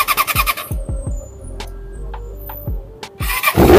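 A Yamaha R6 sport motorcycle starts up close by: a run of rhythmic starter cranking pulses, then the engine catches and roars loudly at the end.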